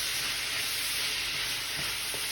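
Onions sizzle steadily in a pan on an electric stovetop for curry, a continuous bright hiss with faint stirring scrapes and no speech.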